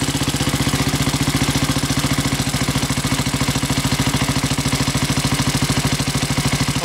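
A 1927 Sunbeam Model 6 motorcycle engine runs close by at a steady, even idle, its single-cylinder thumping rapid and regular with a mechanical clatter throughout and no speech.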